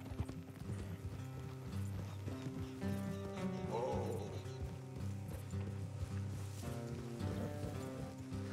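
Steady clip-clop of horse hooves at a brisk trot in the video game Red Dead Redemption 2, with a horse whinnying briefly partway through over a low background of music.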